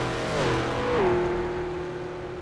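Race cars lapping a circuit in a racing simulation game, including a Favero sliding through corners, give a steady engine drone that drops in pitch as gears shift, with one clear downshift-like glide, fairly loud and without speech.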